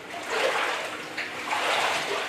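Water splashes and sloshes as a person is immersed during a church baptism, two soft surges of churning water at moderate distance without clear talk.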